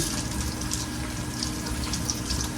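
Tap water runs steadily over food being rinsed in a sink, a continuous close splashing gush with no pauses and no voices.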